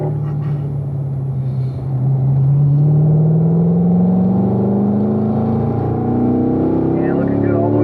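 Corvette engine pulling hard on a race track, rising steadily in pitch through an upshift and climbing again in the next gear, a loud continuous drone throughout.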